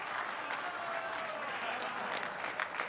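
A crowd applauds after a shot at a women's professional pool match, with steady, dense clapping that stays even and fairly distant throughout.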